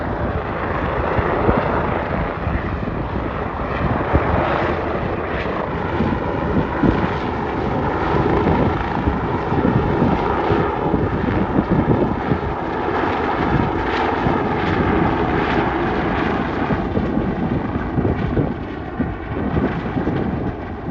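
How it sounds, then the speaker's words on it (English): Firefighting helicopters swoop in to scoop water from a lake for a nearby fire, a steady broadband rotor and engine roar holding loud for the whole stretch, mixed with wind buffeting on the microphone. "basically the helicopters coming in, picking up water to go dump on the fire site"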